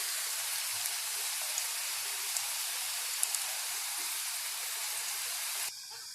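Cauliflower frying in hot oil for a Gobi Manchurian-style fry, a steady bright sizzling hiss with faint crackles throughout, dropping off abruptly just before the end.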